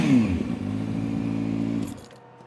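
A Kawasaki ZX-6R motorcycle fitted with an eBay slip-on exhaust blips its throttle. The revving engine rises sharply, then holds a rough, throaty drone that cuts off after about two seconds.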